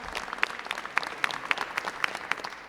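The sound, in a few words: audience applause for state representatives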